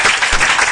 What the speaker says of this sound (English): please give a round of applause to this incredible company and their director